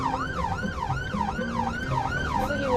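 Someone whistles an imitation of an ambulance siren, a wailing tone rising and falling in a steady repeating cycle, close and fairly loud.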